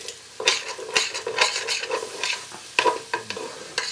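A spoon stirs potato and bacon soup in a pot, giving a steady run of wet scraping strokes with a faint sizzle underneath and no talking.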